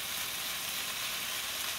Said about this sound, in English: Stir frying it around the pan here